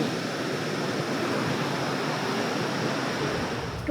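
Continuous rushing surf of ocean waves on a long beach at Bo Dan, Phang Nga, steady and fairly loud with wind, no voices.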